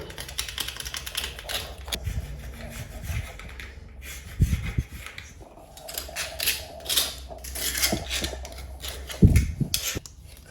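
Scraping old grout from between bathroom floor tiles, a dry rasping scratch that repeats in uneven strokes, close and moderately loud, with a few heavier knocks and no talking.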